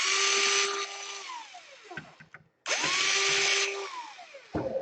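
A power screwdriver whirs loudly as it backs screws out of an Asus G46 laptop, two long spinning bursts that wind down in pitch, separated by brief clicks and a short pause, close up.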